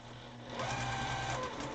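A sewing machine stitches back and forth across a fabric mask, a short close mechanical whir that rises in loudness partway through.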